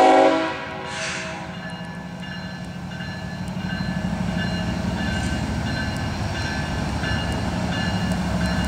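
CSX freight train Q464 rolls past steadily with a rumbling, rattling drone, a brief loud horn blast at the start before the sound settles into continuous wheel and car noise.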